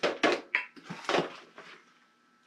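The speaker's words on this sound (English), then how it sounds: "I'm just going to put a little bit of soil down in here." Potting mix is scooped and dropped into a plant pot during coleus and sansevieria repotting, giving a few close, soft gritty scrapes and thuds in quick succession, then a quiet pause.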